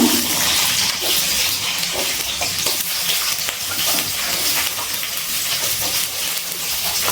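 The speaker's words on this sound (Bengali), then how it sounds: "দিয়ে দিচ্ছি গাজর ভাজার জন্য।" Carrots fry in hot oil in a pan for a restaurant-style mixed vegetable dish, making a loud, continuous, hissing sizzle with small crackles and no talk.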